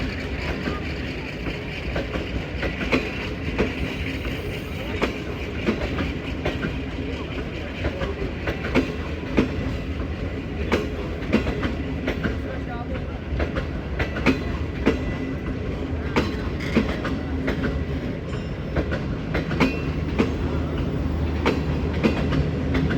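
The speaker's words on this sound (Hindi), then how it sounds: "नया रेक है जी ये अवाम एक्सप्रेस का, तीसरा।" Awam Express passenger train, a new rake, passing through Attock City Junction in Pakistan, with a steady loud rumble and rhythmic wheel clatter over the rails throughout.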